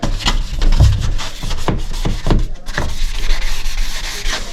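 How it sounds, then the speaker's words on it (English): A 400 grit sanding pad rubs lightly back and forth over a painted uPVC door in steady, repeated strokes, close and fairly loud. "can then use your 400 grit pad or sheet that you're going to use and start giving it a light rub over"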